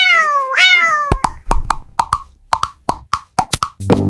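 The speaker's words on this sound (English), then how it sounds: "C for cat." A cat gives one clear, drawn-out meow up close, followed by a quick series of short, sharp plopping taps spaced out over the next few seconds.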